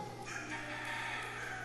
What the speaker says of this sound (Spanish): Y nos cantó el gallo, aleluya, gloria a Dios.